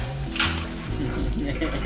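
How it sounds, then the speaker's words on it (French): Dishes being washed by hand in a kitchen at a temple in Thailand, with a steady clatter of plates and cutlery in running water while people talk throughout. "ce matin on a décidé de faire la vaisselle"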